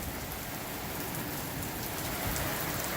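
Heavy rain pours steadily during a storm that brings hail and flooding, a dense, even roar of falling water and drops hitting surfaces close by, holding at a constant level throughout with no voices.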